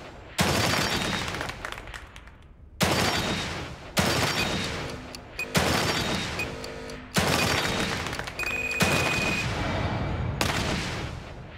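Repeated heavy explosions in the survival horror game The Evil Within 2, six loud sharp blasts at irregular intervals, each followed by a long rumbling decay.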